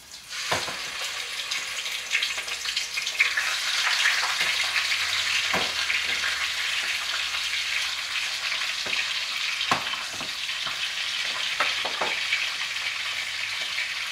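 Chicken pieces browning in a hot pan for chicken and dumplings, an even, continuous sizzle with scattered pops and the occasional clink of a utensil, no talking.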